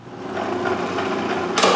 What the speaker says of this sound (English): cut the slot on the scroll saw